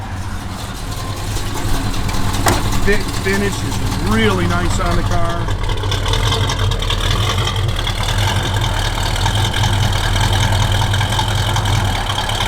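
A 1968 Pontiac Beaumont engine idles with a steady, low rumble that runs through the whole stretch, while someone talks over it close by.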